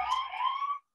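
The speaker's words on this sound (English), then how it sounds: "excuse the siren. I don't know if you can hear that." A siren wails outside, a short steady tone heard through a window at moderate loudness, then cuts off abruptly.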